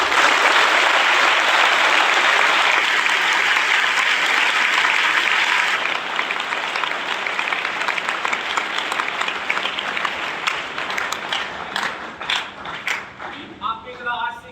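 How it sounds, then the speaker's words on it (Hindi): Audience at a business meeting in India breaking into loud, sustained applause that gradually thins into scattered individual claps toward the end. "एक बार जोरदार तालियां अपने लिए"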